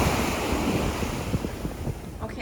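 Ocean surf at a Puerto Rico beach, a steady rushing wash of waves with heavy wind buffeting the microphone, continuous and fairly loud.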